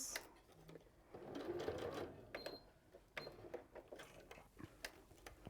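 A sewing machine stitches a box stitch across a satchel pocket in quiet, close bursts of rapid mechanical clatter separated by brief pauses, with faint voices in the room.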